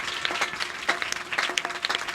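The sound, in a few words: applause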